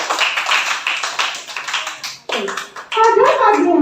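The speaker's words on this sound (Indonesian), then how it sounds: "Beri tepuk tangan untuk Buyung." Brief clapping for a child in a classroom lesson, a couple of seconds of hand claps before a voice starts speaking, followed by a louder spoken passage.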